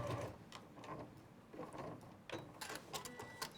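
A sewing machine fitted with a walking foot stitches across a seam allowance in short, uneven mechanical bursts, with pauses and faint clunks between runs, close and moderately quiet.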